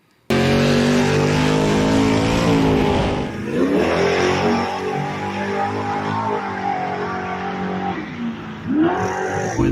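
A car launching hard from a red light in a street race, engine loud and close, revving up through gears with a steady roar, a brief tire squeal, then a fresh surge near the end.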